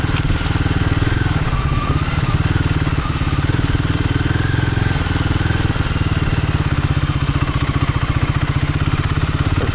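A Royal Enfield Himalayan 450 struggles slowly through soft sand on a Michigan singletrack, its engine a loud, steady, throbbing drone with constant close rumble and faint crackle of wind and sand.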